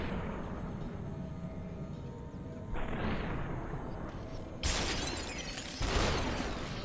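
Gunfire in the video game SUPERHOT, with dense mechanical shots and bursts building into louder, sharper blasts toward the end, played alone without talk.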